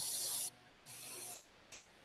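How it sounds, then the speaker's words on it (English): Short hissing bursts of spray paint lay purple patches on a miniature: three close, bright blasts, the first two about half a second long and the last a brief puff, separated by near silence. "we're going to just spray little patches of purple here and there"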